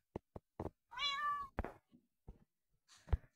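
A Minecraft cat gives a single clear, drawn-out meow, near and alone, set between sharp clicking taps in the game.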